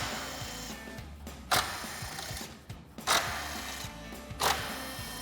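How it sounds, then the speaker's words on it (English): An impact wrench fitted with a 10 mm socket drives out grille screws on a 2020-2026 Chevrolet Silverado 2500, three sharp hammering bursts at close range separated by a low steady motor whir, no talk. "We've got our 10 millimeter socket on our impact, and we'll get these out."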